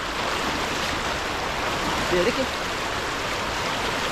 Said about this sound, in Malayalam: ഈ വെള്ളച്ചാട്ടത്തിൻ്റെ ഇരമ്പലൊക്കെ കേൾക്കാം കേട്ടോ